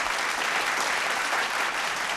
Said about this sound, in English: Another round of applause for our third resident judge